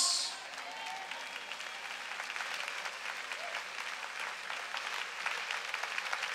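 Congregation applause at a worship service, a steady dense wash of clapping that holds for several seconds at moderate level, with no voices over it.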